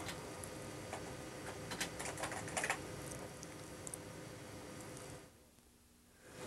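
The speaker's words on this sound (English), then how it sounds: "he is typing a red plain face paragraph" Rapid typing on a computer keyboard at a multi-user editing workstation, a steady near clatter of keystrokes with a few louder bursts, stopping abruptly near the end and leaving quiet room tone.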